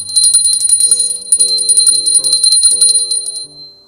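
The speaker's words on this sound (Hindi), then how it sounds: "थोड़ा सा घंटी नाद करते हैं हम।" A small metal hand bell rings in rapid, bright, continuous jingling for about three and a half seconds, loud and close, then fades out.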